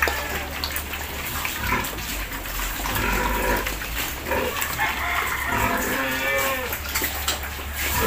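Pigs on a small backyard hog farm grunt and squeal continuously at close range, a dense, noisy chorus of many animals with no pauses.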